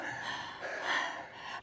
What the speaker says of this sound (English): I hope this vlog isn't just heavy breathing the whole time.